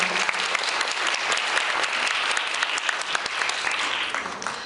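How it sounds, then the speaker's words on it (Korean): Audience applause for the award-winning teams at the final of the 18th Sookmyung debate competition in 2019, a steady, dense clapping that fills the hall throughout without a break. "입상한 팀에게 다시 한번 큰 박수 부탁드립니다."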